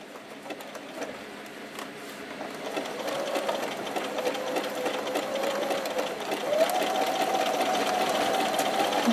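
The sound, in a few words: sewing machine stitching a patch onto jeans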